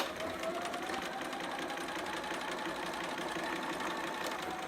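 A sewing machine runs a steady, continuous back stitch along a quarter-inch seam, close and even in tone with no pauses or talk.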